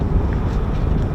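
Wind blusters into the microphone outdoors near an airfield, a loud, rumbling, continuous buffeting with no voices.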